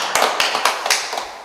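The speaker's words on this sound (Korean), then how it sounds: "우리 관장님한테 박수 한번 쳐드려요" An audience at an art talk with two artists applauds, giving a short burst of dense, steady clapping that fills the space without a pause.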